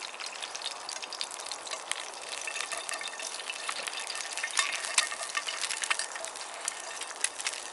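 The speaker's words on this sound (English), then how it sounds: "My fried egg, I want that to have a really nice crispy bottom on it." An egg frying in a pan, oil spitting and crackling steadily at close range with dense tiny pops, a continuous quiet sizzle with no voices.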